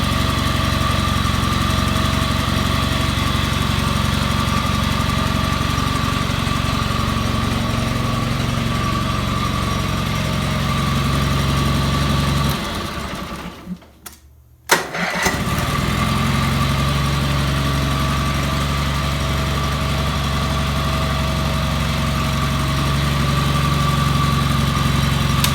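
A Honda HT 3813 lawn tractor engine idles steadily at close range with a constant mid-pitched hum, dips and cuts out for about two seconds near the middle, then resumes at a steady level. No one speaks.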